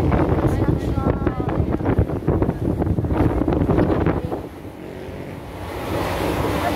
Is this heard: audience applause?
no